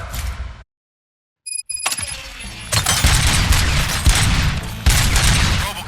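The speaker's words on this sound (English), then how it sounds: "Gunshots? What's going on?" Dense bursts of gunfire from a firefight in the RoboCop Rogue City video game, loud and continuous after a brief silence, with sharp shots layered over rumbling action noise.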